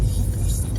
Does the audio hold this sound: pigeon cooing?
no